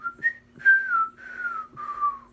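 A person whistles a short tune in four or five wavering, breathy notes with brief gaps, close and fairly soft, a little unsteady in pitch.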